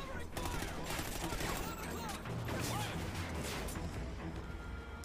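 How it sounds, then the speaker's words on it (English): Dense gunfire in the Call of Duty Ghosts campaign, a relentless barrage of overlapping shots and bursts from several directions, loud and continuous with explosive thumps underneath and a voice breaking through. "I'm getting shot from like all angles"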